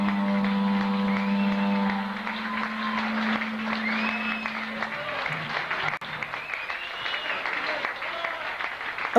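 Polite crowd applause at a concert, a steady wash of clapping at moderate volume that lingers without building; a sustained musical tone sounds under the first few seconds.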